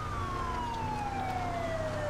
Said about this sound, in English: we're going to throw on our sirens here too